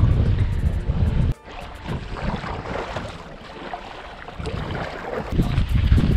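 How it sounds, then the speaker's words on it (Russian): Strong wind roaring and buffeting the microphone in heavy low gusts while rafting on the Rezh river, briefly dropping before surging back, with water sounds beneath. "вообще сильнейший ветер дует, прямо сдувает обратно"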